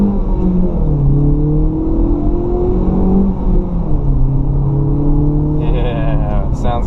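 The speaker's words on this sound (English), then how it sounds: "I just wanted to show you guys what the stock exhaust sounded like." A 2016 Hyundai Veloster Turbo on its stock exhaust revs up and down several times, the close engine note climbing and dropping in smooth sweeps over a constant idle rumble.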